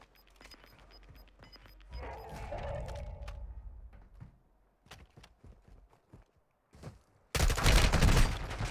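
Gunfire in the online shooter Warzone 2: scattered shots and thuds, some distant, give way to a sudden loud, close burst of rapid fire near the end, with no voices.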